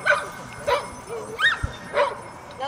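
A search and rescue dog gives four separate barks at a steady pace during a training demonstration outdoors, loud and close, with faint voices in the background.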